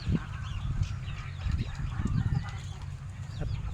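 Geese honk and cackle repeatedly, several birds close together, with clucking fowl mixed in and no talking.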